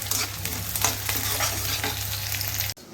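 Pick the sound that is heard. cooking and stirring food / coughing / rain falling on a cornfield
cooking and stirring food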